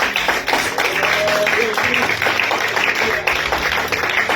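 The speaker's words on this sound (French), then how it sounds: "Ah, l'applaudissement est timide." Scattered, modest clapping from a church congregation, loose and uneven rather than strong, with a voice talking over it and a low hum of instruments in the room.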